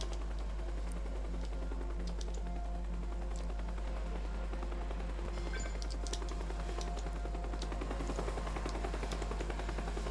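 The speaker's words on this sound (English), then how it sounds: "So now, this chopper knows I'm here." A helicopter in the video game Teardown hovers nearby, a steady whirring rotor drone running throughout alongside scattered game effects and faint clicks.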